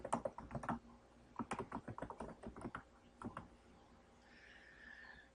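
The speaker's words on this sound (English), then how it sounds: "So I'll type that in too." Close, steady typing on a computer keyboard in quick irregular bursts of keystrokes with brief pauses, fading out near the end to a soft high background hiss.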